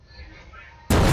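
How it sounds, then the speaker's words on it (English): A sudden loud TNT blast in Minecraft erupts near the end, a sharp broadband burst that follows quieter ambient game sound. "Oh, that was a big explosion."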